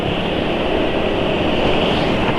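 Engine with film-strength lubricant running smoothly after being revved, a steady dense hum that holds an even level with no knocks or surges, loud and close.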